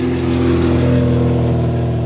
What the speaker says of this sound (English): Lotus twin cam engine.